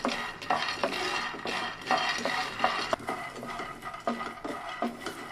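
Peanuts are dry-roasted in a pan and stirred, a rattling scrape of nuts with repeated clicks of spoon against metal at close range and moderate volume.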